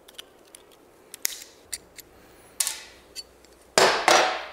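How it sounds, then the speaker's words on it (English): On a vintage Yamaha dirt bike, metal tools click, tap and scrape while the brake pedal tip is taken off, a run of sharp separate knocks ending in two louder scraping clanks, with no speech. "First step though is gonna be taking off this brake pedal tip and seeing what we got."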